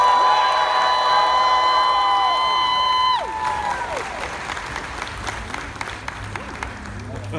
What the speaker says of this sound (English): So would you please give an amazing round of applause to Dominique Thorne.